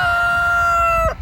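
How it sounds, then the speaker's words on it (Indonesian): A free-range rooster on a German farm crows once, loud and close, holding one long sustained call that breaks off sharply at the end, with no voices. "Nah, itu banyak kan di sana ayam-ayamnya."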